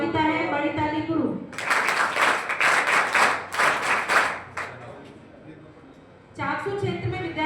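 Applause from an audience for a student at a 12th-grade board talent award ceremony, a dense burst of clapping lasting about three seconds, with someone speaking just before and after it.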